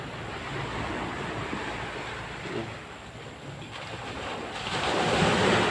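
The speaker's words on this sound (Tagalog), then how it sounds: "may alon." Ocean waves wash steadily with wind buffeting the microphone, building to a louder surge near the end.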